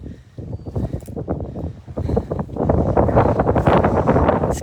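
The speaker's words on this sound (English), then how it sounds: "It's getting a bit windy as well." Gusty wind rushes and rumbles against the microphone, rising in strength partway through and staying loud and turbulent to the end.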